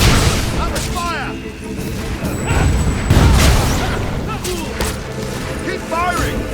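Cannon fire in the Fable III video game: a dense barrage of booming blasts rolls on continuously, loudest around the middle, with crashing debris and game voices shouting over the bombardment.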